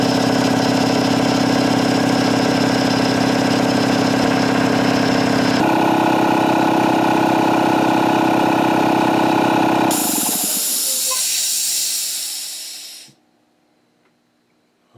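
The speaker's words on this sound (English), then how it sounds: "now this compressor kicks off at 135 and it kicks in at 90." An Ingersoll Rand air compressor runs loud and steady with a droning motor and hiss. Its tone shifts partway through, then it winds down and falls silent near the end, as it shuts off at full pressure.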